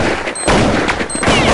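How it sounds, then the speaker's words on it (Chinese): Sniper rifle fire in Counter-Strike, a sharp loud crack over busy game noise, then a second report a moment later, with dense background rumble throughout. "架狙瞄准，瞬间击毙"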